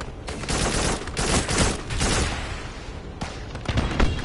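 Rapid bursts of gunfire in the co-op sci-fi shooter Farpoint, dense overlapping shots and booming impacts in a near-continuous volley, loud and close, with brief dips between flurries.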